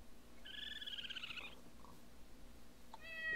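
A virtual cat from the Minecraft Mo Creatures mod gives one clear, drawn-out meow, followed by a quieter chirpy call at the end, against a faint hum of background noise.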